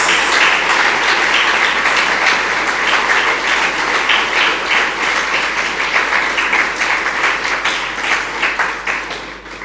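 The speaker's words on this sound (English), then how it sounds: "please join me in giving Mr. Stiell a warm, rousing round of applause" A lecture audience at the William G. Demas Memorial Lecture gives a speaker, Mr. Stiell, a warm round of applause, with dense, loud clapping sustained for the whole stretch and tapering slightly at the end.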